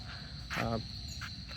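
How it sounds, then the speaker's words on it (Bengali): A continuous high-pitched cricket trill fills the background at a quiet spot inside Bashundhara, Dhaka, after heavy rain, briefly interrupted by a short, louder croaking call. "ঝিঝি পোকার ডাক থেকে শুরু করে এগুলো শোনা যাচ্ছে এখানে"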